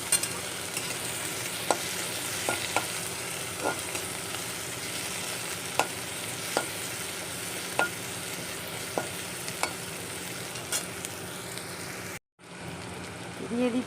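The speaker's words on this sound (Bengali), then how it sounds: "দিয়ে দিচ্ছি টমেটো কুচি, এবার এগুলোকে সুন্দর করে ভাজবো" Chopped tomato fries in oil in a pan while noodles are being made, a soft steady sizzle with regular light clicks of a spatula, then a sudden cut and a brief quieter stretch at the end.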